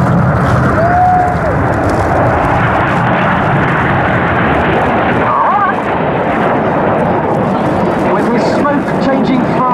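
Red Arrows jets flying close formation aerobatics at RAF Waddington make a loud, continuous roar overhead, with a brief rising whine mid-way and crowd noise around.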